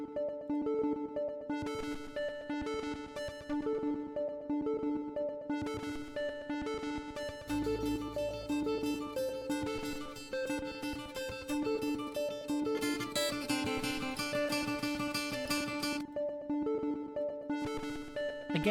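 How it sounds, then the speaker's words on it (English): Distorted synth track pushed through a gritty Korg MS-20 filter, playing a dense sustained chord pattern with a buzzing low end entering midway and harsh, bright overtones swelling later, steady and fairly quiet. "but then I also ran it through our absolutely filthy MS-20 filter, which makes it sound like this."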